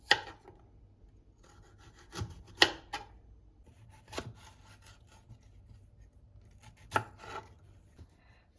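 A knife slices vegetables into thin rings on a board, giving a handful of crisp, separate cuts spaced a second or more apart against a quiet kitchen background.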